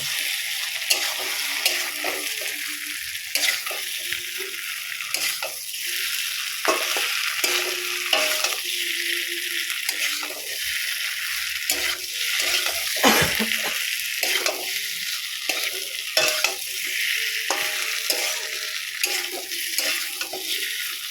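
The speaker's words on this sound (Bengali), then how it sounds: "সেই কচু আলু দিয়ে আরও কিছুক্ষণ খুব সুন্দর করে নাড়িয়ে চাড়িয়ে কষিয়ে নেব" Fried taro and potato pieces being stir-fried in a pan for a fish curry, continuous sizzling broken by repeated scraping and stirring strokes of a utensil against the pan at an uneven rhythm.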